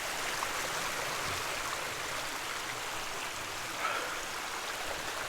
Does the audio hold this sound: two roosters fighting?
no